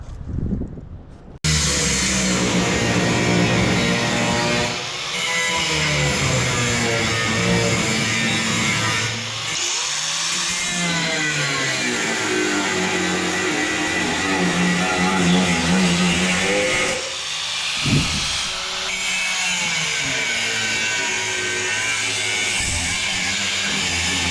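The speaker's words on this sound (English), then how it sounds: "now we're going to take our expanded metal and get it cut to size" A power tool cuts expanded metal to size during a dump truck rebuild, a loud, continuous whining and grinding that runs almost nonstop with a few brief dips as the cut shifts.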